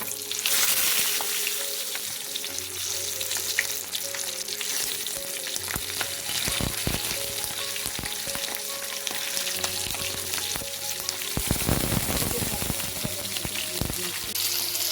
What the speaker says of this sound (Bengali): মরিচটা একটা একটা করে আমি তেলের মধ্যে দিয়ে দিচ্ছি